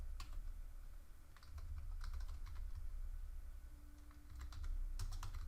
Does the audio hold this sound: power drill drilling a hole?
no